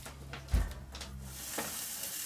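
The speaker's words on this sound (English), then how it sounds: "So I'm going to saute these onions, get a little brown going to them" Onions sauté in a pan, a soft steady sizzle with a clattering stir near the start and quieter scraping afterward, close and moderate in level.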